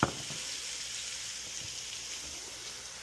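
Garlic and soy sauce frying in hot oil for pansit, a steady close sizzle that holds evenly throughout after a brief knock at the start.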